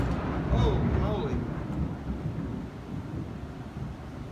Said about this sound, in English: That was some gnarly thunder.